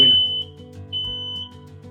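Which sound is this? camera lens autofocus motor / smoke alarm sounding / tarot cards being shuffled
smoke alarm sounding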